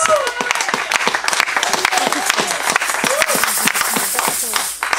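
A church congregation applauds during a service, the clapping steady and loud throughout. A voice talks over it, with cheers and calls mixed in.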